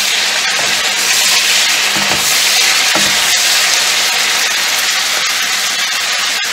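Onions fry in a pan for a pepper salad, giving a loud, steady sizzle and hiss throughout, with a few soft clinks of stirring close by.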